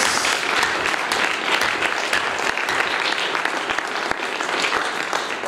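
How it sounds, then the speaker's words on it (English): A church congregation claps in praise, a sustained dense round of many hands at an even level for several seconds, with faint voices mixed in. "Come on, clap for Jesus."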